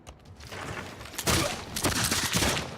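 Battleship cannons in Civilization VI pound city walls in a rapid fusillade of heavy booming blasts, several shots overlapping into a loud, continuous barrage with sharp peaks.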